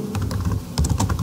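Typing on a computer keyboard while setting up a cash-module record, a steady near run of soft key clicks that grows a little louder and busier in the second half, with no talking.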